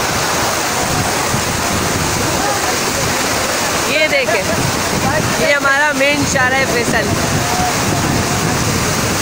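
Fast, churning floodwater roars through a Karachi street after a heavy storm, a loud steady rush with gusty wind on the microphone, while someone talks over it.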